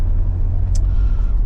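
An INEOS Grenadier 4x4 heard from inside the cabin gives off a deep, steady engine and road rumble while driving on an open road.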